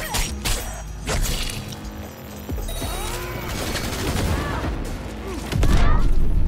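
Grenade blasts and gunfire in Cyberpunk 2077: bursts of rapid shots and crashing booms, with a heavy roar swelling near the end, under occasional talk.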